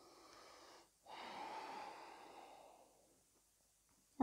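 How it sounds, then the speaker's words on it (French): A deep breath during a yoga sun salutation: after a short pause comes one long, soft, airy inhale that gradually tapers into near silence, close and gentle, with no one speaking. "On prend une profonde respiration."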